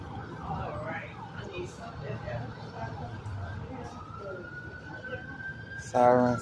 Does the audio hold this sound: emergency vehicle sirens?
yes